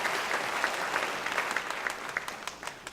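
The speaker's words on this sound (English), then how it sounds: "Cheap applause line." Audience at an author dinner program of the 2019 Tucson Festival of Books breaks into applause, a continuous wash of clapping with a few sharper individual claps standing out.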